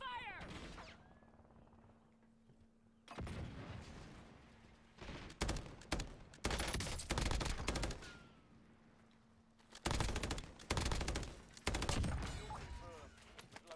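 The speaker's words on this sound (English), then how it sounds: "Now I'm about to die over here because people are shooting at me." Gunfire in Call of Duty Warzone, several loud bursts of shooting and fusillades arriving in clusters with short quiet gaps, with a player's voice talking over parts of it.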